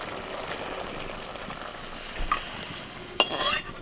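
Spice masala for an egg dopeyaja is stirred in a frying pan, a soft continuous sizzle with faint scraping and a couple of sharp utensil clinks near the end, no talking.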